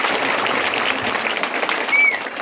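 Audience clapping at a Hindu temple wedding ceremony (thirukalyanam), a steady, dense patter of many hands throughout. A brief whistle-like tone rises near the end, with no clear talking.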